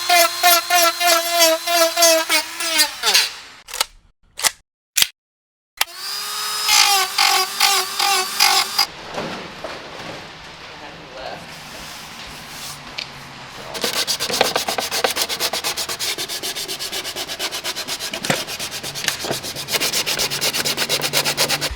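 A crack in a car body panel on a widebody Mercedes gets a channel ground over it: harsh buzzing rubbing comes in short bursts with pauses, then longer continuous rasping sanding, close and fairly loud with no talk.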